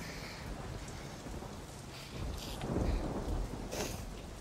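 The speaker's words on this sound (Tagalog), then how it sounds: "Malakas ho ang bagyo sa labas." Heavy typhoon rain pours steadily outside while thunder rumbles low and swells in the middle, a constant dense wash of sound with no voices.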